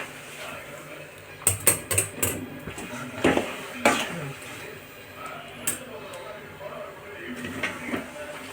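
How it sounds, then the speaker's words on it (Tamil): Chana dal, asafoetida, dried red chillies and fenugreek are stirred in a tempering pan for puliyodarai, with a spoon scraping and clinking against the metal in irregular bursts over low kitchen background noise. "கடலைப்பருப்பு, பெருங்காயம், வத்தல், வெந்தயம் 3ஐயும் புளியோதரைக்கு திரித்து தாளிச்சத்தில் கிண்டுறேன்"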